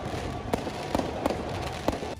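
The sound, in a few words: fireworks going off during street celebration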